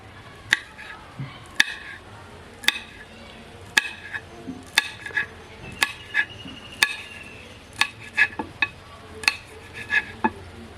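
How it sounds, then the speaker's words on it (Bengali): A knife chops coriander leaves and green chillies on a board, giving sharp, close knocks in an uneven but steady rhythm, about two dozen cuts with short pauses between bursts. "এখন ধনেপাতা আর কাঁচা লঙ্কাটা কুচি করে নেব।"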